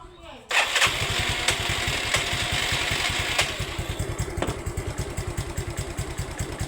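Repaired Yamaha Fino scooter: the small engine cranks and catches with a rising burst, then settles into a close, rapid, even putter at idle, pulsing steadily to the end.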